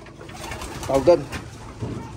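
Soft pigeon cooing in a racing pigeon loft comes in short, low murmurs amid a muffled, slightly noisy indoor background.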